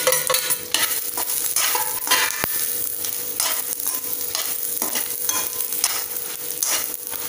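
Chicken masala for a tamarind-style pulimunchi sizzles steadily in a pan, broadband frying hiss with repeated scraping stir strokes, close and fairly loud, no voices.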